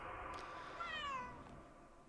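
A cat gives one short, clear meow that rises and then falls, heard alone against a faint, quiet background.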